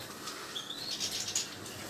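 Soft, high chirps and tweets from caged finches close by, a few quick calls over a quiet background.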